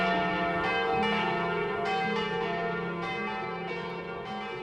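Church bells ring out from a Quebec sanctuary parish, a rich, sustained peal of several overlapping tones with fresh strikes every second or so, loud and reverberant with no voices.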